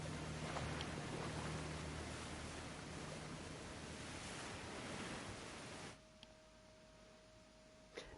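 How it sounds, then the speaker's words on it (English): Steady rushing water and waves in the video game Final Fantasy XV, a continuous broadband wash of surf that drops abruptly to a quieter, thinner water sound partway through, with no talking. "I'm hearing lots of water"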